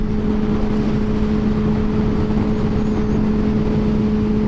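A Yamaha FZ6 600 motorcycle cruises along a road in Paudalho, Pernambuco, its engine holding a steady, even drone with a strong low hum and rushing road noise, continuous and close.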